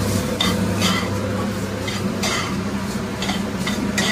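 Chicken is stirred into a sauce in a home kitchen pan for pizza topping, with a gentle sizzle underneath and several distinct scraping strokes of a spoon against the pan at irregular intervals.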